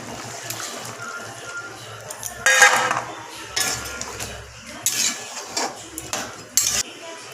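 Prawns go into boiling prawn malai curry in a cooking pot: irregular metallic clinks and clatters of a utensil against the pot, with soft stirring and bubbling between the bright, close knocks.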